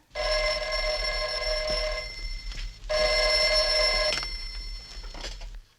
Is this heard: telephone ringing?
yes